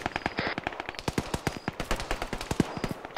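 Rapid video-game gunfire from a bunker at a tree line, dense bursts of sharp cracks in quick succession, moderately distant, continuing throughout.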